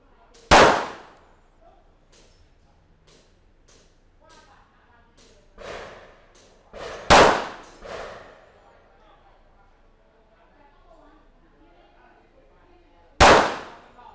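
Smith & Wesson M&P Shield pistol firing domestic practice ammunition at a standard target about 10 metres away: three loud, sharp shots spaced several seconds apart, with someone speaking quietly between them.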